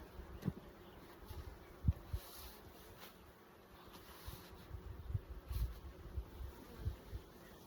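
Honeybees buzz around full honey supers on a hive, a soft, steady drone with faint wingbeat flickers that come and go, heard alone with no talk.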